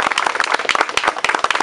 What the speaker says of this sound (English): So everybody give a quick round of applause for them.